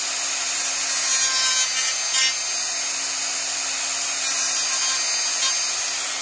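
A high-speed rotary tool buzzes steadily while cleaning up a plastic 1:650 scale U.S.S. Enterprise model kit, a thin whine with small shifts in pitch as it grinds, close and continuous with no talk.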